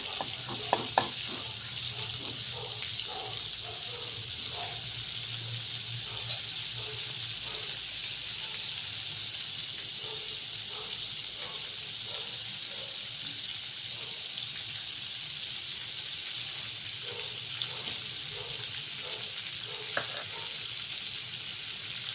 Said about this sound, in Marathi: जिरं छान तडतड द्यायचं आपल्याला।